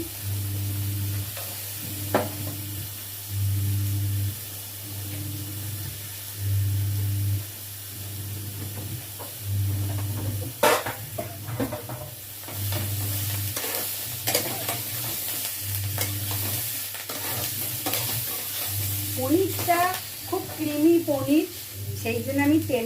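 Green peas frying in a pan with capsicum and paneer on a low-oil dish, a steady sizzle broken by repeated scraping stirs, with a low rhythmic hum underneath and some faint voice near the end.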